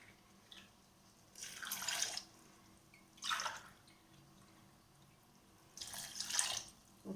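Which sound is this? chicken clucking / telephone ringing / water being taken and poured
water being taken and poured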